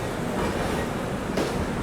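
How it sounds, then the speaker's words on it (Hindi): The 15658 Brahmaputra Mail express pulls out of Kanpur Central station, a steady, dense rail rumble and rolling wheel noise with no voices over it. "चलिए निकल गई दोस्तों अपनी ब्रह्मपुत्र मेल कानपुर सेंट्रल से"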